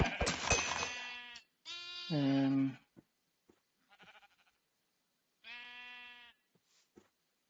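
Sheep and lambs bleating in Hungry World, a blocky Minecraft-like online game, several loud close bleats with gaps of near silence between them.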